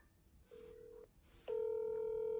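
A phone placing a call to a family member, giving a short steady tone, a pause, then a longer louder steady tone that holds to the end, with a faint murmur beneath.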